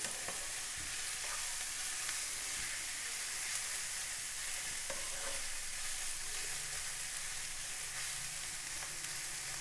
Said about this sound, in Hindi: बस 1 मिनट इसे मज़ीद भूनेंगे